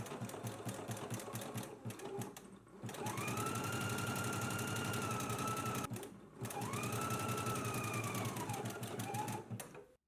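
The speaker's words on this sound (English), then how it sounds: "we can go ahead and stitch it in place using a 5/8 of inch seam allowance" A sewing machine stitches a 5/8-inch fabric shoulder seam, running in two long, steady whirring bursts with a brief pause between them, close and clear with no talking.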